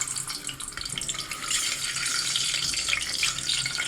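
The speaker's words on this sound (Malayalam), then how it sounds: "അതിനായിട്ട് ഇതേ മുട്ട നമുക്ക് ഈ ഓയിലിൽ ഇട്ട് കൊടുക്കുക" Boiled eggs fry lightly in hot ghee and oil in a pan, a continuous hissing sizzle that grows slightly louder, heard close up with no talking.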